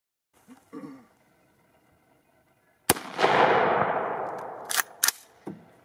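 A single sharp report from an AR rifle firing Federal .223 or Lake City NATO ammunition, followed by a decaying outdoor echo and a few faint clicks of handling afterward.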